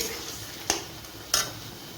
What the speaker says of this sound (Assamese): ইয়াতে এতিয়া আমি অলপচোন মাংসখিনি লাৰি দিম